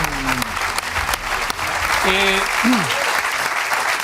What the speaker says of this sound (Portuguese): Depois de aplauso tão mísero